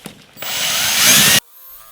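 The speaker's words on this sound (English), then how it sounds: "I'll run this drill in reverse this time." A power drill runs in reverse on an epoxy and wood woodturning piece, a loud close whirring whine that starts abruptly, holds steady for about a second, then cuts off sharply.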